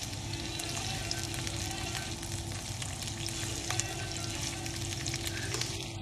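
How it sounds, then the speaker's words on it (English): Colored peppers frying dry in a pan with a loud, steady sizzle and occasional light clinks of stirring, close up, no voices. "Stirring like this without adding anything."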